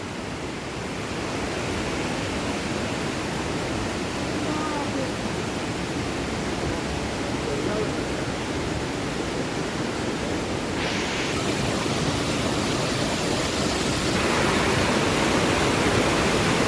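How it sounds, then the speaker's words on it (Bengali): Kanchenjunga Falls, a large waterfall on a mountain slope, gives a loud, unbroken roar of rushing water that swells slightly toward the end, with gusting wind mixed in. "বিশাল ঝর্ণা, এই হলো কাঞ্চনজঙ্ঘা ওয়াটারফলস।"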